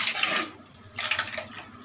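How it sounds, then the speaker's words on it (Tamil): Water poured into a pot of onion and potato lemon curry on the stove, two splashy pours close up, the second softer and broken into trickles. "நம்மளுக்கு எவ்வளோ குழம்பு தேவையோ அவ்வளோ தண்ணி ஊற்றிக்கலாம்."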